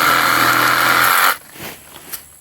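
A power saw cuts steadily and loudly through a Paulownia tree limb for over a second, then stops abruptly, leaving quiet with a few faint knocks.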